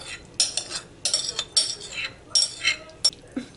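Meat filling dumped into a deep baking dish with a spoon, giving a series of close clinks and scrapes against the dish in uneven bursts.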